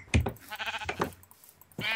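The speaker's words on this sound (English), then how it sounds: "Killing the sheep. Oh, I feel sorry for the sheep." Bleating sheep in the Minecraft video game, a few short game-sound bleats spread over two seconds, fairly loud and close with no talk over them.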